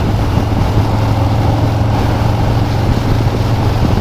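A 2020 Harley-Davidson Low Rider S motorcycle accelerates under throttle with a loud, steady low engine drone and rushing wind, heard up close from the rider's position.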